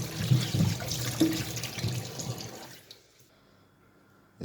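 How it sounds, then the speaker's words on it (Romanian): Peeled vegetables are rinsed under a running kitchen tap, with water splashing and gurgling steadily for nearly three seconds before the flow stops and the room falls quiet. "le îmbăiem în bioapă de la robinet"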